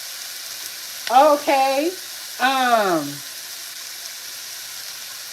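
Onions stir-fry in oil in a pan with a steady, close sizzle, while a person speaks briefly over it in two short bursts.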